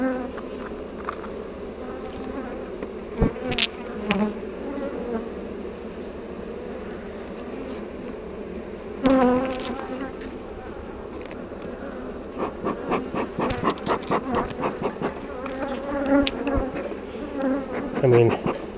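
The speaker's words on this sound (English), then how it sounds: "I mean, can't complain about the number of bees, holy cow." A dense, steady drone of many honeybees fills an open beehive during an inspection, and scattered knocks and scrapes from handling frames of drawn foundation sound over it.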